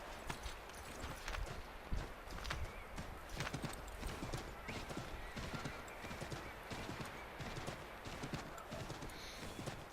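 A horse in Assassin's Creed 3 clip-clops along at a steady walking pace, with dense, rhythmic hoof strikes and faint game ambience underneath.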